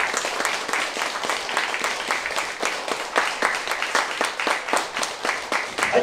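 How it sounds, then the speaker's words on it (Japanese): An audience at the Yada Okagen temple event at Yōjuji applauds the organising committee: dense, steady clapping from many hands, close and sustained throughout, with no speech over it. "それではおかげ学会主委員会の皆さんにもう一度大きな拍手をお願いします。"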